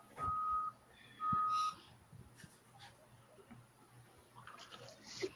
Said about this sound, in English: Does that rustic keep backing up? Is that what that beeping noise is?